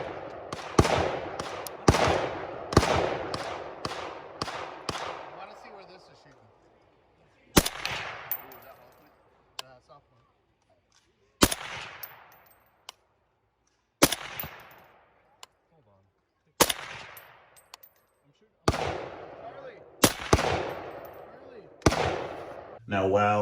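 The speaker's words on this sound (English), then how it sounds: "I'll clip in a quick video here of me shooting this rifle" A SCAR MK20 Mod 0 SSR clone rifle fires through a Surefire 30 caliber suppressor. Loud, close shots come in a quick string at first, then singly with pauses, each shot ringing out and fading.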